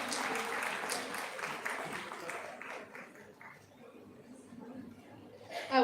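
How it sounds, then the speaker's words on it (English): Applause at a learning summit, a crowd clapping that starts fairly full and thins over several seconds, with a voice speaking faintly over it and a sharp sound at the very end. "Everybody, can you please have a huge round of applause?"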